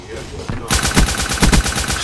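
Rapid automatic gunfire from a gun in a video game, starting abruptly after a brief lull and continuing as a loud, dense burst of repeated shots with a few heavier thumps.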